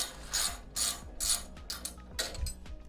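A hand ratchet works a nut loose during a 1-inch leveling lift kit install on a 5th-gen Toyota 4Runner, giving about half a dozen quick, close clicking bursts in an uneven rhythm.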